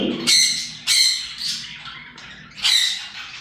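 Several harsh squawks from young fancy pigeons, about four loud bursts spaced unevenly, close by with quiet gaps between them.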